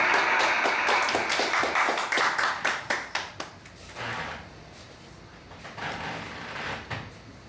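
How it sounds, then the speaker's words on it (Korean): A congregation gives brisk applause welcoming a pastor, dense clapping at first that thins into scattered claps and fades out, with low room murmur afterward. "목사님 박수로 모시겠습니다"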